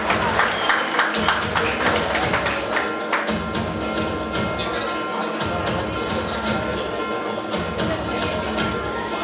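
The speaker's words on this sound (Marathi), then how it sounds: "सर्वांनी टाळ्या वाजवून या ठिकाणी त्यांचं कौतुक करायचं आहे." An audience applauds a student at a college prize distribution, steady crowd clapping filling the hall at moderate volume, with talk over it.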